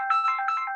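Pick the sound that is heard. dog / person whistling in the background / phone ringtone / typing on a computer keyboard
phone ringtone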